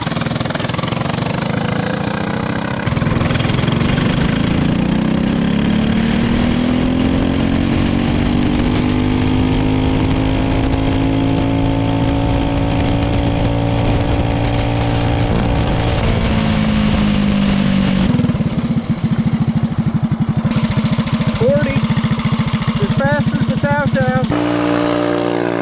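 A small drift kart engine buzzes and drones loudly near at hand, its pitch wavering, then grows uneven and cuts out in stuttering bursts toward the end, with people talking over it.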